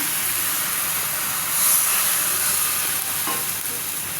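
Taro stolons sizzling in a pan of fried spices as a little water is poured in, a steady close hiss with a brief swell of steam partway through.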